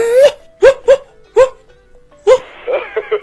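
A woman imitates a dog barking: a handful of short, loud, voiced barks in an irregular rhythm, separated by quiet gaps, then ending with a few softer yelps mixed with voice.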